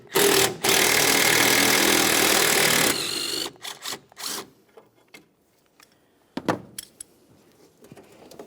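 A wrench or power tool buzzes loudly and steadily for a few seconds, removing a 10mm bolt from the horn bracket of a 2002–2009 Chevrolet Trailblazer. Scattered metallic clicks and clinks of the bolt and tools follow.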